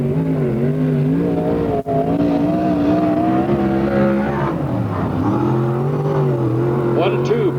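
A 360 sprint car, number 7W, races at Marysville, California, its engine loud and sustained with rising and falling pitch as it circles the track, while an announcer talks over it.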